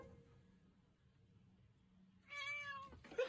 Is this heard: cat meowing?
yes